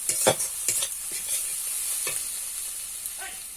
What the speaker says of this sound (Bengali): এবার সামান্য একটু জল দিয়ে ভালো করে কষিয়ে নেব